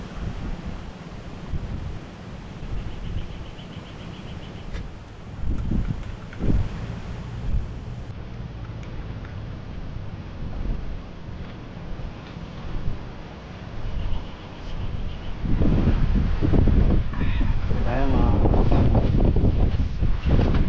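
Wind gusting across a motocamping campsite in Cavinti, Laguna, a steady broadband rush with low rumbling buffets that swell louder toward the end, with no voices.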